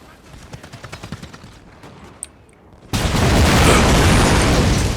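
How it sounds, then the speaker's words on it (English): Grenades go off in the video game Napoleon: Total War, with a run of crackling gunfire that gives way to a sudden, sustained, very loud roar of explosions. "Throw your little grenades."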